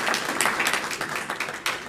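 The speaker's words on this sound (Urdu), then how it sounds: "میں چاہوں گا بھرپور تالیاں بجائیں" Audience at an Urdu poetry gathering in Willesden Green, London, claps steadily, a moderately loud, sustained round of applause with no voices over it.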